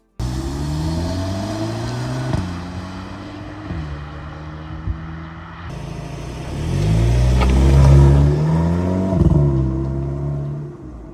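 A 2.0 Volkswagen Polo GTI with DSG and paired twin exhausts revs up, a steady engine note with short blips that swells into a louder, fuller roar in the second half, close by and without talk.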